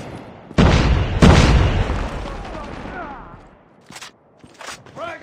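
A grenade goes off in a first-person military shooter match, two loud booming blasts in quick succession with rumbling debris trailing away, followed by a few sharper bursts of gunfire.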